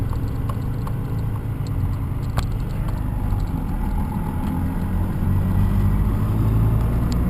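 A 6.2 liter Cummins diesel engine pulls through third and fourth gear with a steady, heavy low-pitched drone that builds slightly in loudness toward the end, heard from inside the vehicle.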